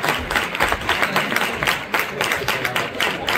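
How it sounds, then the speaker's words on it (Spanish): Audience applauding steadily at a gala award presentation, a dense patter of many hands clapping at moderate distance with little talk. "Un aplauso, llamo a Chechu para que entregue el reconocimiento."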